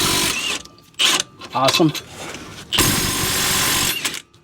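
A Milwaukee 2960 cordless impact wrench working on front brake bolts of a Mercedes-Benz Sprinter 2500 van, giving several short hammering bursts and one longer rattling run, close up, with a voice speaking briefly between bursts.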